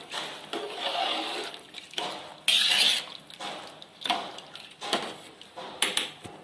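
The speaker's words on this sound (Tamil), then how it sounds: "அரிசி போட்டு அரிசியை நல்லா கலந்து எடுத்துக்கலாம்." Rice being stirred in a pot for chicken biryani, giving a series of scraping, clinking strokes of a utensil against the metal, with one louder burst partway through and no talking.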